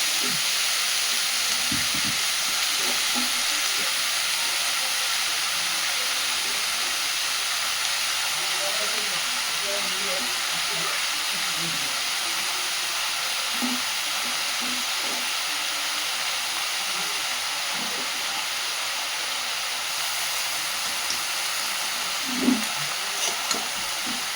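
Steady sizzle of fish head and chopped bottle gourd frying in a pan, with soft scraping stirs scattered throughout; continuous and fairly loud, no voices.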